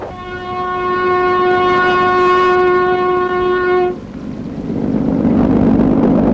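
A passing train sounds a long, loud, steady horn blast for about four seconds over heavy rumbling, then the roar of the rail cars carries on after the horn stops.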